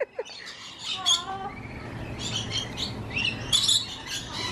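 A bird chirps close by at the Aquarium of the Pacific in Long Beach, giving short bright tweets and squawks in bursts over a steady murmur of crowd noise.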